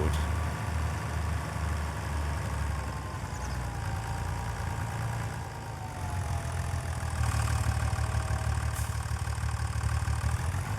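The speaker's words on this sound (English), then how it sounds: "poor old John Deere. I mean, this is a fairly ancient tractor." An old John Deere tractor in Farming Simulator 25 runs with a steady low engine drone and idle throb, rising slightly in pitch and loudness toward the end, alone without talk.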